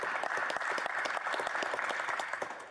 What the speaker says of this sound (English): If we could get a round of applause for the police